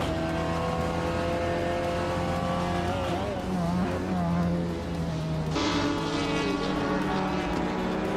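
A 2018 Skoda Octavia race car roars through a racing video game, its engine whine rising and falling through gear changes, with a brief dip and a sharp surge near the middle over steady background engine drone.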